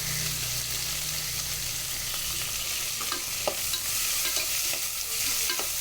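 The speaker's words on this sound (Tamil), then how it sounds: "வெங்காயம் நல்லா வதங்கட்டும்." Ground onion paste frying in a pan with bay leaf, cinnamon, cardamom and cloves for a chickpea (chana) gravy, a steady sizzle with scattered stirring scrapes, close and alone.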